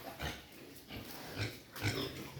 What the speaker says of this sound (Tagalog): At itong dalawa nating native mama pig.